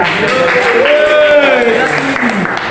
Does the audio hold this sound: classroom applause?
yes